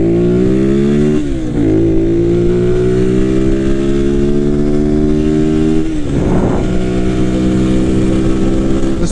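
A 200cc motorcycle engine under test with a beta tune, revving loud and close: a steady high drone that climbs in pitch, dips sharply on shifts, then climbs again.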